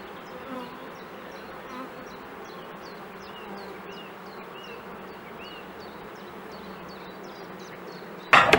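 Honey bees buzz around a beehive in a steady, dense drone with a few individual bees passing closer, ending with a brief loud knock.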